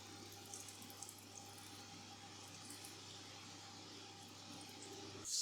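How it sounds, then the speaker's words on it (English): Coolant sprays onto a hot metal part freshly machined on a lathe, a soft, steady watery hiss that runs continuously at low volume and swells briefly at the end. "I'm just going to put some coolant on it just to cool it down"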